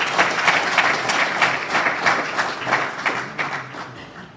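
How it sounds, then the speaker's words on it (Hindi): An audience at a university cultural event breaks into lively applause, a dense, continuous clapping from a crowd that keeps going strongly before slowly thinning toward the end. "मैं चाहता हूँ उन सब के लिए एक ताली हो जाए।"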